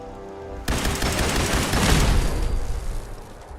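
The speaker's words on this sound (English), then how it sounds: "I like this laser pistol." Laser pistol fire in the Fallout 4 game: a sudden loud volley that starts after a short quiet lead-in, then dense, rapid shots and crackling blasts run on without a break to the end.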